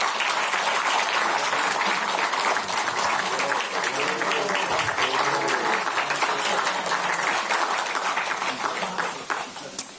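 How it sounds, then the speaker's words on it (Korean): Sustained applause fills the room at a political party leadership announcement, with dense clapping running steadily from start to end and only fading slightly in the last second. "그래서 박수 한번 부탁드립니다."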